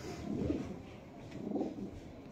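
Low, soft cooing from a large bucket-coloured male pigeon among fancy breeding pigeons, two rounded coo phrases about a second apart, close and fairly quiet with faint background murmur.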